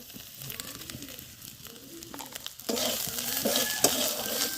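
Ground chilli, turmeric and coriander powder are added to ginger and garlic frying in a pan, giving a steady sizzle that swells louder about halfway through, with light stirring scrapes for dried-fish curry.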